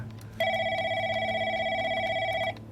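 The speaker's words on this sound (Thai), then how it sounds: "โทรศัพท์ดังขึ้นมาครับ" A telephone rings once with a sustained electronic bell tone lasting about two seconds, clear and fairly close over a quiet low hum, with no speech.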